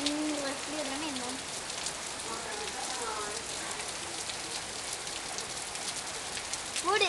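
Rain falls steadily on an outdoor surface as a continuous hiss throughout, with voices speaking intermittently over it.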